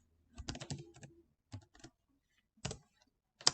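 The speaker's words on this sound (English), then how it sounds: "I'm going to hit the text button. And I'm going to type in" Keyboard typing in quiet bursts, a flurry of rapid clicks followed by several shorter clusters of keystrokes, close and fairly soft.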